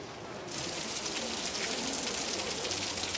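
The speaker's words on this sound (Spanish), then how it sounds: "Todos huyen de la lluvia." Steady rain begins falling abruptly and keeps up as a dense, even hiss on an agricultural collective, moderately loud with no voices over it.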